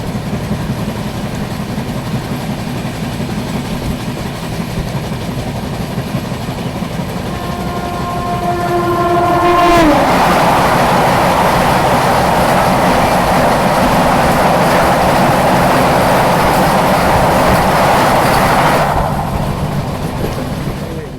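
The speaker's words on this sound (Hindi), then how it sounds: "नई दिल्ली वाराणसी वंदे भारत एक्सप्रेस।" A Vande Bharat Express on the New Delhi–Varanasi route, heard close to the track: a background rumble, then horn tones, then a loud rushing roar as the train passes for about nine seconds before it drops away.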